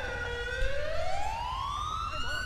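An ambulance siren from a modded ambulance in the police game GTA 5 LSPDFR wails in a smooth rising sweep, loud and steady, with a rumbling low engine-like bed beneath and no talking.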